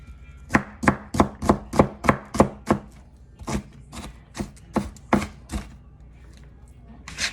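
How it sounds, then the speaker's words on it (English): A knife chops through an onion on a board in a fast, even run of about a dozen sharp thuds, then slower, spaced cuts. "I'll chop up that onion."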